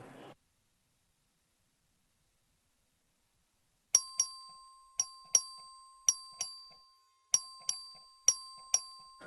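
The clerk's voting bell in the Texas House chamber strikes about ten bright, sharp dings in irregular clusters, each ring decaying quickly, after a brief murmur and near silence.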